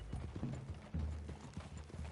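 Horse hooves clip-clop in Red Dead Redemption 2, a quick uneven series of close hoof thuds with a faint mechanical rattle underneath.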